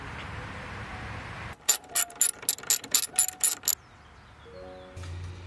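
A ratchet wrench loosens radiator bolts on a Honda Civic: about a dozen quick, close metallic clicks in a fast rhythm, preceded and followed by quieter workshop background noise.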